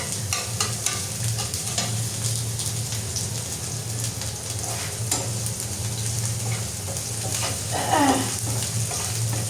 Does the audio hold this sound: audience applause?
no